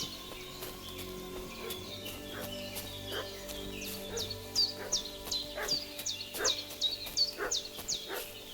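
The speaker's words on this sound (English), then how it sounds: "What's that dog making such a fuss about?" Dog barking repeatedly in a village setting in the video game Kingdom Come Deliverance 2, a series of sharp yaps growing louder and more frequent over a background of birdsong and ambient game music.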